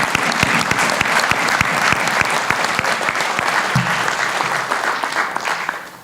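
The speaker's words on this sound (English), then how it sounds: "Round of applause for all of them." An audience at a community engagement appreciation celebration gives a dense burst of clapping for honorees, loud and steady throughout before easing slightly near the end.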